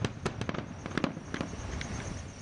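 New Year fireworks over Miaoli, Taiwan, heard from a hillside, a rapid series of sharp bangs and crackling pops, some close and loud, others fainter, with no voices.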